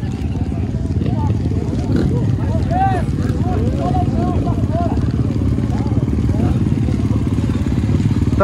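A full start gate of forty motocross bikes in the MX3 class at a muddy race track in Faxinal, Paraná, engines revving and idling together in a dense, continuous drone that rises and falls with throttle blips.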